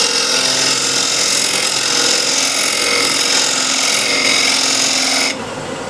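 Woodturning tool being sharpened on a bench grinder, a loud continuous grinding whine with steady buzzy texture, cutting off abruptly near the end to a quieter hum.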